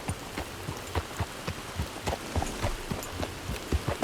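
Rain in the video game Red Dead Redemption 2 as a storm gathers, a loud patter of drops striking surfaces with uneven repeated thumps and splashes, close and continuous with no talking.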